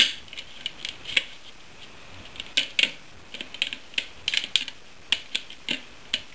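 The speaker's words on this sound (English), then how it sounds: "it is also possible to just finish it out with scissors, and that's what I'm just going to do here" Scissors snip through a tough plastic juice bottle in quick, irregular crisp clicks, close up and alone.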